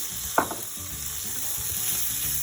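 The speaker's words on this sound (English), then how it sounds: "fry onion until it gets golden brown color. Now it's time to add tomatoes." Onions and tomatoes fry in a pan with a steady, close sizzle throughout, one sharp clink near the start, and light stirring scrapes over the frying.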